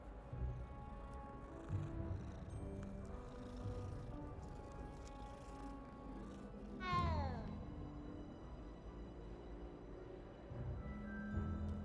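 A cat in the Hogwarts Legacy video game gives one rising, drawn-out meow midway, amid game background sound, with a brief spoken exclamation.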